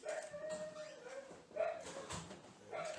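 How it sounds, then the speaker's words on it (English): An unhappy dog at a veterinary clinic whines and whimpers in a few drawn-out, fairly faint cries, with soft background noise. "That dog is not happy."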